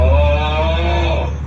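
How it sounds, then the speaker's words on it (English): A custom Tesla lock sound effect plays loud and close, a sustained tonal blast with a deep low drone and layered harmonic lines that fades slightly at the end. "Have you ever wanted a custom Tesla lock sound like this one?"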